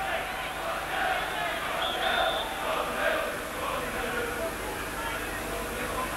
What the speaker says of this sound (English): The crowd chant 1-0.